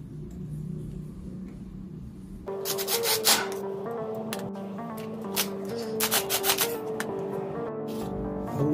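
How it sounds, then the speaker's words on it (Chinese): Screws being driven by hand while assembling an IKEA FJALLBO TV bench, with scraping, rasping turns and small metallic clicks that begin after a quiet stretch and continue steadily up close. "准备两粒螺丝将佢锁实佢先"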